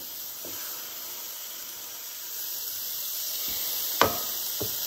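Thick pork loin chops, seasoned with salt, pepper and garlic, sizzle steadily on a CalmDo smokeless electric grill, a constant close hiss broken by a few sharp clicks and taps.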